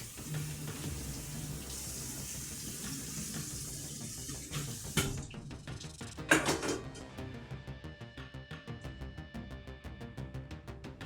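Water running from a kitchen sink hand sprayer that sometimes sticks on: a steady hiss and spray, shifting into clattering splashes and drips against the sink, close and moderately quiet.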